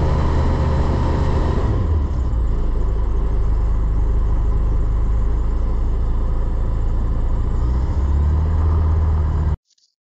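Rotax 912 ULS aircraft engine throttled back to idle, a loud steady close-up drone that drops in pitch after about two seconds, then runs evenly at low revs before cutting off abruptly near the end.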